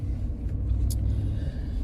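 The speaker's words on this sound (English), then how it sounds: "I'm going to finish driving home here." Steady low engine rumble and road noise from a car on a drive home from the farm, continuous and close, with no talking.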